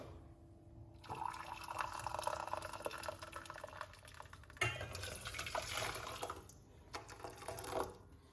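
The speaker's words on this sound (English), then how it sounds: "Then we're gonna get some hot water." Hot water is poured in a home kitchen for tea, a soft trickling and splashing stream that starts and stops a few times, quiet and close.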